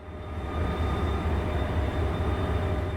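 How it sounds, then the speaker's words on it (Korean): The Namdo Marine S-Train, hauled by a blue-painted diesel locomotive, rumbles past with a deep, steady engine drone and rolling rail noise that swells in over the first half second and then holds loud and even. "파란색으로 칠해진 디젤 기관차가 끌고 있네요."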